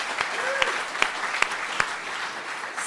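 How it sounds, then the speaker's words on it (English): Audience clapping at an awards event, moderately distant and steady for about three seconds, with a few sharper individual claps standing out and faint voices underneath. "maybe one more round of applause from who we've heard from so far"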